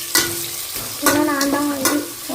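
Onions are stirred and sautéed in a pan for biryani, with cinnamon, cloves and green chillies. A few distinct scraping stirs ring out over a steady low sizzle, close and moderately loud, with no talking.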